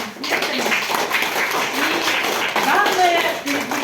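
An audience claps at the opening of a travelling exhibition, with steady, moderately loud applause and voices talking over it throughout.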